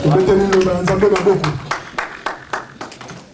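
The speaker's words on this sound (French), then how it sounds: "Applaudissons la parole de Dieu." Congregation at a church sermon clapping, a few scattered claps under singing and talk that give way to isolated, irregular hand claps fading toward the end.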